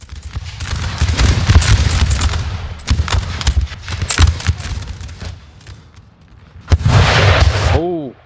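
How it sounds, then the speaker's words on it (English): A battlefield explosion in Napoleon Total War (NTW3) at Salamanca, booming amid dense, crackling volleys of musket and artillery fire; loud, rumbling blasts roll on throughout, with a final heavy burst near the end followed by a brief descending tone. "just in time for that explosion"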